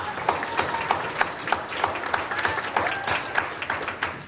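A crowd at a high school JROTC military ball applauds the cadets and senior class, a thinner clapping with distinct individual claps standing out, steady throughout without speech.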